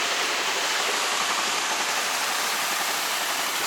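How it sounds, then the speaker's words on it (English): Steady, loud rush of water poured from a fire truck onto a burning, destroyed building, a dense broadband hiss like heavy spray or a waterfall, continuous and even with no voices. "It's like they're still pumping water in on the flames."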